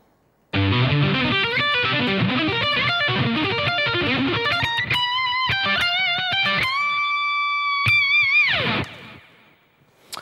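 Distorted electric guitar plays fast arpeggios into a lead lick with held, bent notes from the second solo of a song, loud and continuous with no talking, cutting off near the end.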